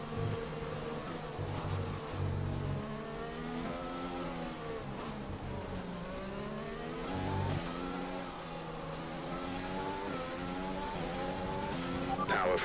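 Honda-powered AlphaTauri Formula 1 car in the F1 2020 video game, its engine note rising and falling in steady harmonic sweeps through gear changes, loud and continuous with faint tyre noise, and no talking.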